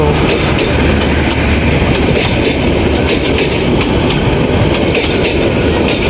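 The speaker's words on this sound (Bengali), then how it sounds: "এই মুহূর্তে সাতখামাইর, শ্রীপুর উপজেলার সাতখামাইর গ্রাম থেকে আপনাদের দেখাচ্ছি ট্রেন যাতায়াতের দৃশ্য" A train rolls past a village railway station at Satkhamair in Sreepur, Gazipur, Bangladesh, with loud, steady rumble and rhythmic clickety-clack of wheels on rails lasting throughout, close and continuous.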